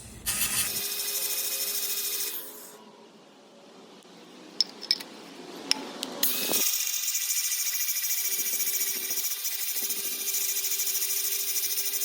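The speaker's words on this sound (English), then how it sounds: "I switched out on my angle grinder the cutoff wheel for the flap disc" An angle grinder fitted with an 80 grit flap disc sands metal, with a loud, steady broadband whine that cuts off, leaves a quieter stretch with a few sharp clicks and taps, and then starts again and runs continuously.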